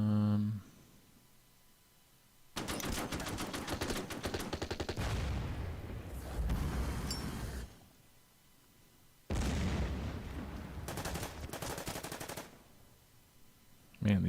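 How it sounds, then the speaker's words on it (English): Enemy flak guns firing in Order of Battle: Pacific, a WWII US Marines strategy game: two long, loud stretches of rapid automatic fire with booming blasts, separated by quiet pauses. "Enemy flak guns."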